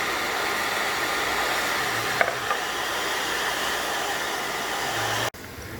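A heat gun set on high blows steadily at close range onto a decal on a Triumph Bobber Black motorcycle side panel, making a constant broadband whoosh and hiss that briefly cuts out just before the end.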